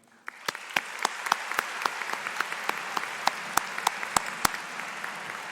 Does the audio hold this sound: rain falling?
no